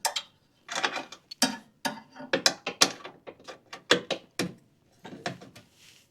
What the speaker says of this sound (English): I'm going to put my first 7/16 wrench in on the side, and then I'm going to use a ratcheting wrench on the back side